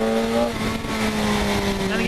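A 2008 BMW K1200S four-cylinder motorcycle with an Akrapovic exhaust drones loudly at speed, its engine note rising and falling, with a rider talking over it.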